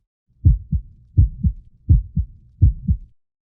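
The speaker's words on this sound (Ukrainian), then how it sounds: "І як б'ється серце." A human heartbeat from the Voyager Golden Record thumps four times in a steady lub-dub rhythm, each a deep, close double pulse separated by quiet.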